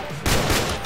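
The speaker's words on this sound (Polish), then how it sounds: "Słyszę strzały. To ja strzelam." Dense burst of rapid gunfire in a modded multiplayer video game, starting a quarter second in, loud and continuous with no voices over it.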